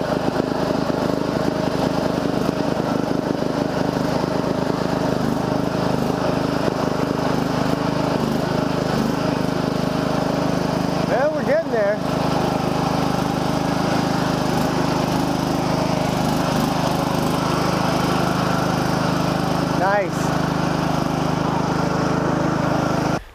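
A riding lawn mower engine drones steadily and loudly throughout while a dead Murray mower is towed out through muddy holes, with no break in the engine noise and no talking.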